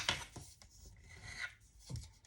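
A bone folder is pressed and rubbed along the folds of a paper card in a few short, dry scraping strokes, soft and close with brief pauses between passes.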